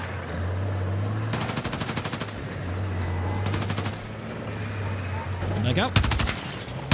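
Rapid automatic gunfire in a military shooter video game, picking off snipers near an IFV, cracks out in three dense bursts over a steady engine rumble, with a brief spoken command in between.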